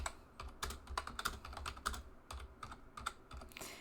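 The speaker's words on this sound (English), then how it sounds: "I typed something in." Close, quiet typing on a computer keyboard, a rapid irregular run of key clicks with short pauses and no voices.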